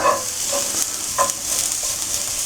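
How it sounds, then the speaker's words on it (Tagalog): Garlic toasting in a pan before beef goes in, a steady close sizzle with a few soft stirring scrapes spaced through it, no talking. "medyo tostahin muna natin yung bawang bago natin nilagay yung yung baka, yung beef"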